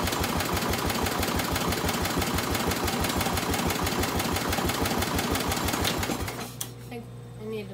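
A Bolens tractor engine runs choked with the throttle raised, a fast, rough, even chugging pulse close by for about six seconds before it stumbles and drops to a quieter, uneven idle.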